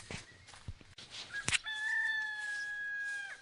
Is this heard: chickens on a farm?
yes